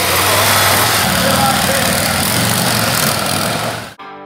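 A motorcycle pulling away at the start of a ride from Leuven, its engine a loud, steady drone throughout that cuts off abruptly near the end.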